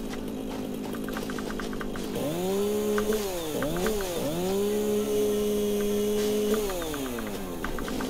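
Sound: chainsaw cutting in a video game

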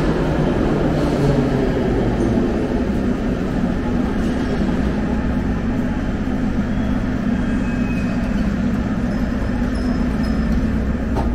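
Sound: old subway train arriving at Minsk metro station

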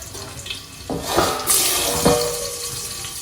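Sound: water running from a tap

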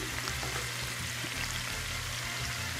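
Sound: pork frying in a pan

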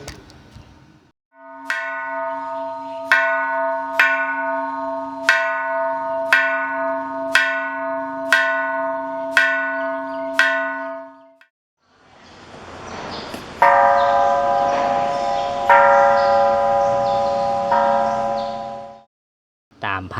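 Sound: temple bells ringing

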